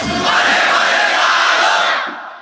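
A large crowd at a religious sermon shouts the takbir together, one loud unified roar of many voices that holds for about two seconds and then fades.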